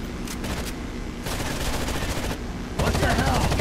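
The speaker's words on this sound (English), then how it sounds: "Under heavy fire!" Gunfire from the video game Rainbow Six Vegas, set at a Nevada dam: dense overlapping bursts of automatic shots rattling continuously across the clip, loud and near, growing heavier toward the end, with no talk over it.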